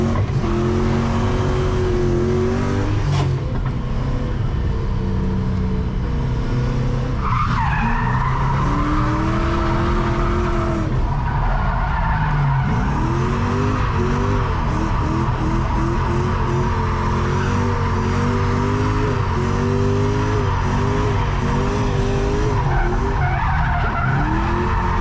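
A drift car skids around a track with the handbrake, engine revving hard in rising and falling surges while tires squeal in long repeated slides, loud and close throughout.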